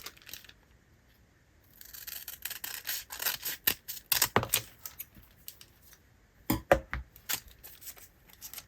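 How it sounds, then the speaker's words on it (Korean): Scissors snip through a sheet of label stickers in a series of sharp, close clicks and crisp cuts with rustling paper between, coming in quick irregular bursts after a quiet start. "얘는 가위로 좀 오려보도록 할게요"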